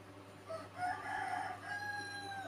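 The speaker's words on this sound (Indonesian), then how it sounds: "abaikan suara ayam ya" A rooster crows at a distance, one drawn-out call rising and holding for about two seconds over a steady low background hum, faint and with no talking.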